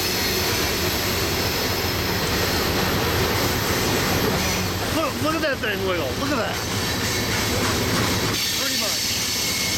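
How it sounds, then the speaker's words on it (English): A very long freight train grinds steadily past in Rochelle, Illinois, a continuous loud rumble with squeaks and rattles of cars, while people nearby talk excitedly over it. "this is a long train. This is a very long train"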